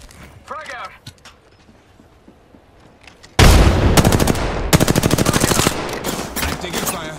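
Gunfire in the Apex Legends video game erupts abruptly after a quieter stretch with game voices, a loud, rapid automatic burst with dense, evenly spaced shots continuing to the end.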